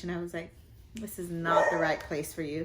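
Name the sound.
dogs barking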